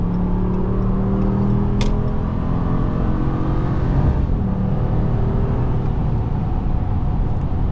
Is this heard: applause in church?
no